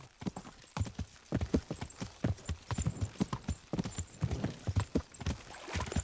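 Horse hooves clip-clop in a steady, lively rhythm in the video game Kingdom Come: Deliverance, each sharp knock close and distinct, with no voices over them.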